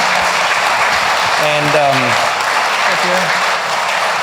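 Lecture audience applause, a steady loud clapping wash that runs through the whole stretch, with a voice speaking briefly over it.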